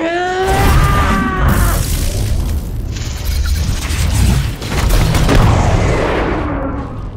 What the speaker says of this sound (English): The explosion will mask our escape.